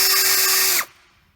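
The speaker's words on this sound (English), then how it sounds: "What we're doing is just putting the drill right on the stem and pulling back on it up against the seat tight" An electric drill whines loudly, spinning on the stem of a valve to grind it against its seat on an IH 454 engine, then cuts off abruptly and winds down into near silence.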